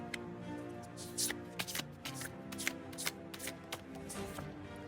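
Thai fortune-telling cards shuffled by hand, a run of crisp riffling flicks and taps with no voice over them.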